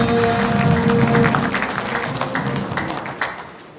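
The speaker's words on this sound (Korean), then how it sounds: "여러분 큰 박수로 맞이해 주시면 고맙겠습니다." Party members applaud as a speaker takes the stage at a provincial election committee launch rally, a dense, steady crowd clapping that fades out over a few seconds, with some tonal background sound early on.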